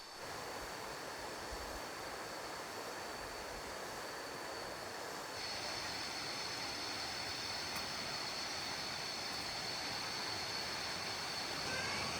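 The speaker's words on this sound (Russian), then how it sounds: "Какой красивый водопад!" A jungle waterfall on Koh Chang island pours in a steady, broad rushing hiss, heard continuously and fairly faint from a short distance, with no voices.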